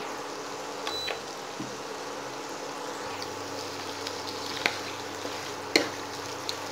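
Beans, capsicum and carrot fry in a pan with a soft, steady sizzle, faint and continuous, with a few light clicks of utensils.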